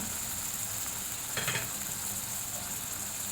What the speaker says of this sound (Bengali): পেঁয়াজ কুচি রসুন বাটা জিরা বাটা আদা বাটা একদম সামান্য দিয়ে ভালো মতো কষতেছি